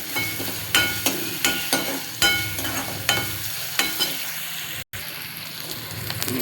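Onion and green chilli paste sautés in a pan, a hissing sizzle broken by repeated scraping strokes of a spatula at a steady rhythm, close and fairly loud, with no talk.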